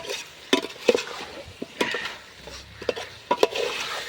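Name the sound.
stirring chicken legs frying in oil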